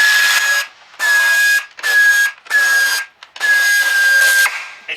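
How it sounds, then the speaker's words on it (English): Pneumatic air tool removing air box bolts on a Ford Fiesta, five loud close bursts of hissing, whining rattle separated by short pauses. "just for quickness sake I'm going to use an air tool because you can't beat an air tool"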